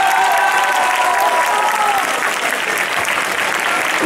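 A graduation-ceremony audience applauds a tutor of the science and technology baccalaureate with dense, sustained clapping. It holds at a steady, loud level throughout, with a faint crowd murmur underneath.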